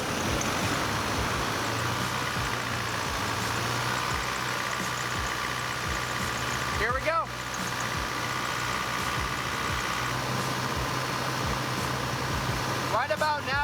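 A Chevrolet Colorado engine held at about 2,000 RPM while cleaner is sprayed into it for carbon cleaning, a steady mid-pitched drone with a brief dip partway through, while someone speaks briefly over it.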